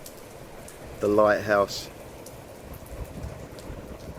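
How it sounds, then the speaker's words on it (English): Light rain patters steadily in the background outdoors while a person briefly speaks. "It's just starting to rain."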